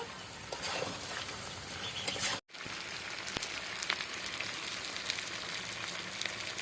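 Mutton pieces sizzle and crackle steadily while being sautéed in a pan for a Bengali kosha, a dense continuous frying hiss with one brief gap, close and moderately loud.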